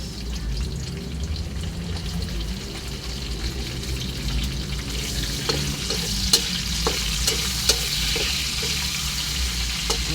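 Garlic, then onion, sautéing in a pan for homemade fish sisig: a continuous hissing sizzle that grows busier midway, punctuated by sharp scrapes and taps of a utensil.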